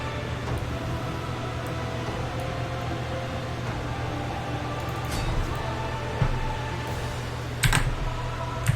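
A slightly lopsided computer keyboard clicks in sparse, scattered keystrokes, with a few louder taps, against a steady fan-like hum.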